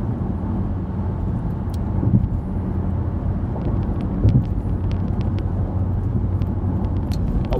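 Low continuous rumble of road traffic from inside a moving vehicle heading north on an interstate, a steady engine and tire drone with a few faint clicks and small swells in level, no talk.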